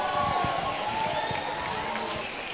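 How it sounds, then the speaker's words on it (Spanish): The audience at a FIRST LEGO League closing ceremony at the Universidad Politécnica de Madrid applauds the coaches with moderate, continuous clapping and a murmur of crowd noise. "Un fuerte aplauso para vuestros entrenadores"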